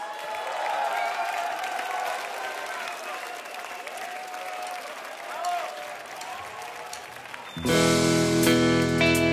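A live concert audience applauds to welcome a singer, a dense steady clapping with some voices mixed in, before loud music abruptly takes over near the end.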